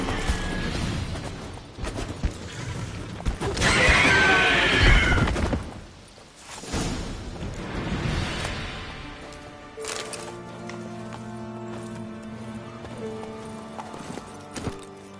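Horse hooves clip-clopping at a steady gallop in The Witcher 3, with a whinny partway through, loud and close, then settling under quieter ambient game music with tonal hums.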